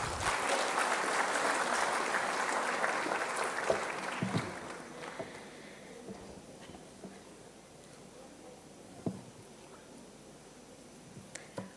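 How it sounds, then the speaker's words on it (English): Audience at a school's 19th Foundation Day applauds loudly for about four seconds, then the clapping thins out into scattered individual claps that trail off into a quiet room. "Can we please welcome her with a warm round of applause?"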